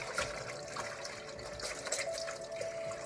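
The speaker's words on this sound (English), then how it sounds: "this is the rinsing stage, still hot, still hot." Washed clothes being hand-rinsed in a sink of hot water: faint, continuous splashing and sloshing, with soft irregular swishes as the fabric is moved through the water.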